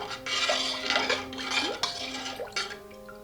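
A spoon clinks and scrapes against a bowl while salt and asafoetida are stirred into water, a steady run of close metallic taps and swirls with faint liquid sloshing.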